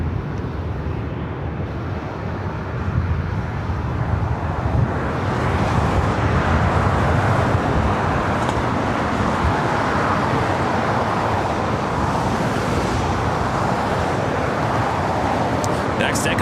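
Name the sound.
Japan Airlines 787-9 Dreamliner taking off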